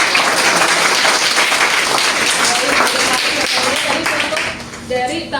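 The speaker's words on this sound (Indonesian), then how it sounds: "tepuk tangan buat" Loud clapping from a classroom audience during a teaching practice session, dense and continuous, then thinning and tapering off near the end.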